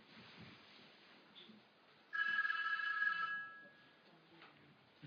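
A telephone rings unanswered for about a second, a single electronic trill standing out over a quiet room hum.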